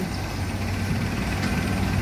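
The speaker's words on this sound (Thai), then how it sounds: "เรือด่วนเจ้าพยาเนี่ย" A Chao Phraya express boat idles at a river pier near Tha Chang, giving a steady, low, even engine rumble that holds throughout with no voices.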